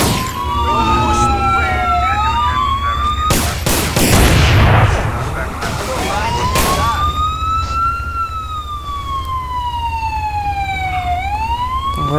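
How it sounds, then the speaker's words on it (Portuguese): Police vehicles in the GTA video game, modded so officers shoot from inside their cars, wail with loud rising-and-falling sirens while bursts of rapid gunfire crackle over them in the middle of the stretch. "de dentro dos veículos eles já vêm atirando"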